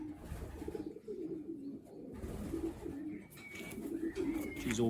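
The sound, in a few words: racing pigeons cooing in basket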